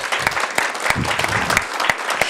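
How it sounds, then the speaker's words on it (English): A modest crowd at an abilities awareness rally claps with distinct, uneven hand claps that keep going for a couple of seconds. "Can we give a big round of applause?"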